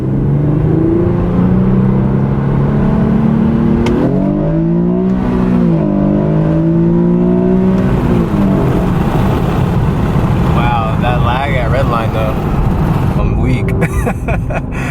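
A big-turbo Mitsubishi Lancer Evolution IX engine revs up and down with rising and falling whine, loud and close, untuned, with a person's voice mixed in.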